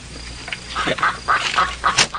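Duck quacking in short repeated bursts, several calls spaced through a couple of seconds at moderate loudness, set in a radio drama scene near a pond.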